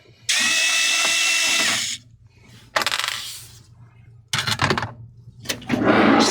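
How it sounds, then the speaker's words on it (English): Phillips screwdriver, apparently powered, backing out the two side panel screws on an Acer Nitro 50 gaming desktop: two short whirring bursts with clicks and small metallic rattles of screws between, close up. "using a Phillips screwdriver. Remove the 2 screws here on the side."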